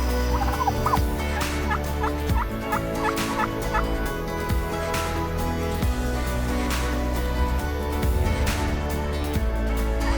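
Several turkeys gobble repeatedly in overlapping bursts, loud and close, over a constant low engine-like drone, with no one talking.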